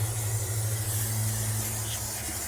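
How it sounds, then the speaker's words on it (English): Oil sprays in one continuous close hiss inside an M Grills M36 smoker being seasoned, steady and unbroken with no voices. "I'm going to spray inside here."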